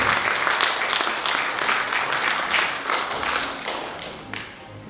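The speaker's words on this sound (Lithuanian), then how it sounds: "plojimai šiam chorui Satrieno Gražuliui Jandorui." An audience at a folk ensemble's award ceremony applauds a choir with dense, sustained clapping that carries through the whole stretch and fades slightly toward the end.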